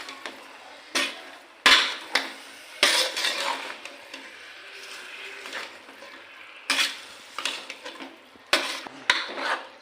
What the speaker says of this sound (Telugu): ఇప్పుడు కావాల్సినంత సాల్ట్ సాల్ట్ వేసుకొని కలుపుకోవాలండి బాగా